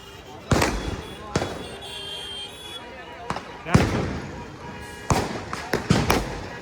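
Firecrackers and bombs burst during Diwali celebrations, a series of sharp loud bangs spaced irregularly, some near and some farther off, with people talking between them.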